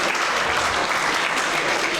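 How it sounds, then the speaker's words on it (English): Sustained applause from the audience at a combat sports contest, honouring the competitors, with dense, even clapping filling the hall and a faint murmur of voices underneath. "please, once again, a big round of applause for our competitors of this contest"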